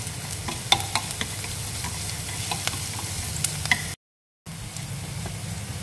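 Garlic and ginger stir-fry in hot oil for a ginger-braised chicken dish, a continuous close crackling sizzle with scattered pops and light stirring, broken by a brief silent gap.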